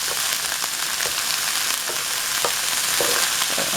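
Icy frozen pieces crackle and sizzle in a hot frying pan while cooking rabbit fried rice, a steady loud hiss broken by scraping stir strokes at a regular rhythm.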